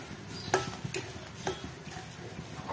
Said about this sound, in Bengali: এটাকে কিছুক্ষণ নেড়ে চেড়ে